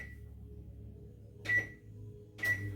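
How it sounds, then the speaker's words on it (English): A microwave oven runs with a low steady hum while baking an upside-down apple pie, and two short high beeps with clatter ring out about a second apart. "You want to prepare the oven / microwave."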